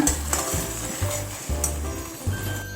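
Sauce mixture for chicken Manchurian stirred and frying in a pan: a steady close sizzle with rhythmic scraping strokes of the spoon about every half second.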